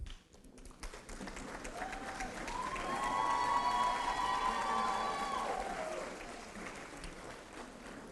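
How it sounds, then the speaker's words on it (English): An audience at a graduate hooding ceremony applauds faculty and staff, clapping that swells to a full, sustained round mixed with a few cheers and crowd noise, then gradually thins out. "give them a round of applause to the faculty and staff"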